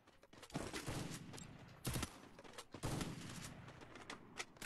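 A mobile shooting video game fires several rapid bursts of gunfire in quick succession, with sharp repeated cracks spread across about five seconds at a fairly low overall level.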